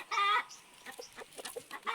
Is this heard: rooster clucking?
yes